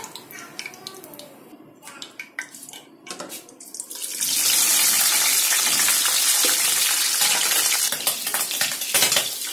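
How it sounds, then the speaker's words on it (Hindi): Liver pieces hit hot oil and burst into a loud, dense sizzle that holds steady and spatters, after a few quieter clinks and kitchen sounds at the start. "तो तेल में अब मैं ये कलेजी डालूंगी।"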